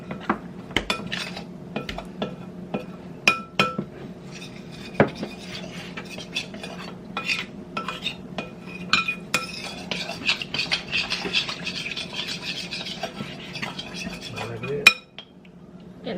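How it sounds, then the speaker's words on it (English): Beef is mixed with a cornstarch slurry in a bowl for stir fry, and a utensil clinks and scrapes against the bowl steadily in a busy home kitchen. "he's just gonna put the meat in here and we're gonna mix it together"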